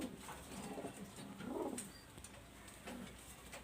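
Pigeons coo softly in a loft where several young Pakistani highflyer and teddy pigeons are kept, low repeated calls over steady background noise.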